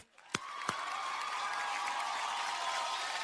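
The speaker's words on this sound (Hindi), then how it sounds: "जोरदार तालियां" Studio audience applause at a film awards show in Mumbai's Prime Focus studio, opening with a few sharp claps and then settling into a dense, steady round of clapping.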